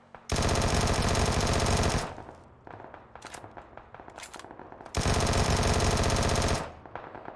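Two long sustained bursts of Vector submachine gun fire with focused aim in PUBG, each run of rapid shots lasting about two seconds, with quieter reload and handling clatter between the magazines.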